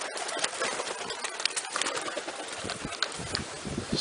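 Racing pigeons coo softly in a loft, with intermittent calls and light rustling or wing movement nearby, no talking.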